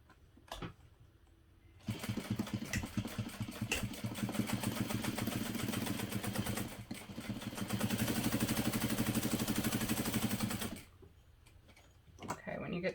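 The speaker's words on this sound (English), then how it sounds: "now I'm just going to sew directly over this box with my shorter stitch length" A sewing machine stitches over a box with a short stitch length on a parachute knapsack, a rapid mechanical chatter that runs steadily for about nine seconds, starts and stops abruptly, and dips briefly once along the way.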